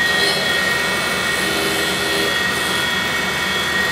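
Deckel tool and cutter grinder with its wheel spinning while grinding a cutter, a steady loud whirring hum with a high whine, constant and unbroken throughout.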